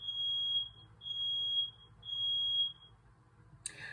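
Three steady high-pitched electronic beeps, each about half a second long, evenly spaced and loud, followed by a short burst of noise at the end.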